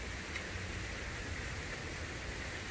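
Steady outdoor rain falls as a dense, even hiss of drops that holds at a constant level across the whole stretch, with no voices over it.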